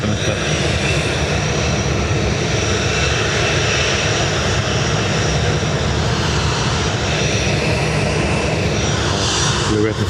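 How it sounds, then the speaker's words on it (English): An ATR turboprop airliner taxis at Dublin Airport, its steady engine roar and propeller drone filling the scene continuously and loudly throughout, with faint voices talking underneath. "We're waiting for the ATR to get out of the way."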